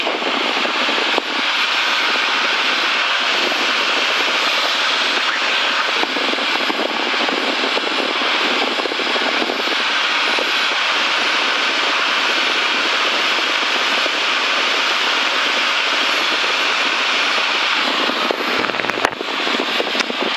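A loud, steady light-airplane propeller engine drones continuously at high takeoff power, close and unbroken, with a brief click or crackle near the end.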